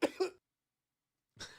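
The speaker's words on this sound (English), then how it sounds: "Coughing trouble at the end." Two quick coughs in a row, close and fairly quiet, followed by a silent pause and then a brief throat-clearing or start of another cough.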